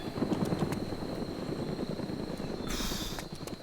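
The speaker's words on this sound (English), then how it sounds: "we're gonna have to take down this helicopter because it is not happy with me" Helicopter in the video game Arma 2 DayZ, a steady rotor drone held throughout at moderate level with a brief brighter burst of noise near the end.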